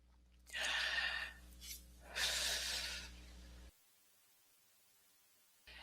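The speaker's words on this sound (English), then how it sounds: "everyone to just start breathing 10 slow, deep breaths" Two slow, deep breaths drawn in and let out during a mindfulness breathing exercise, each a long breathy whoosh lasting about a second, close and soft, followed by near silence.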